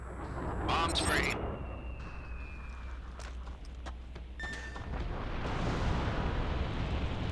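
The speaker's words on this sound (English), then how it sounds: "Cool looking explosion." A bunker buster bomb detonates in the video game Mercenaries: Playground of Destruction, a deep rumbling blast that rolls on with crackling debris and a low sustained roar, while a voice speaks over it.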